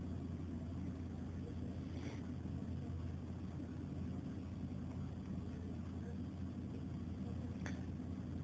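An aircraft in a flight simulator game lines up on the runway and takes off, its engines a steady, continuous low drone that holds at an even level throughout.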